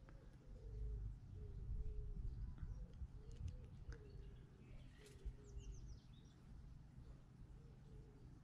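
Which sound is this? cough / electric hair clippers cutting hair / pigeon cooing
pigeon cooing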